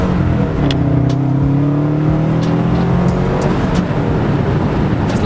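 A Subaru with all-wheel drive pulls hard through first gear on winter roads, its engine note climbing steadily from inside the cabin, loud and continuous with road noise under it.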